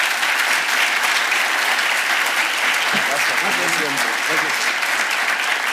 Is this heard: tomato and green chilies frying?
no